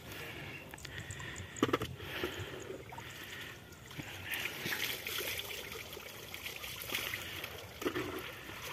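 A small stream flows steadily with a soft continuous trickle, joined by a few sharper splashes and knocks nearby.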